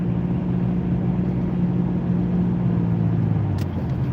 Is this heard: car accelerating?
yes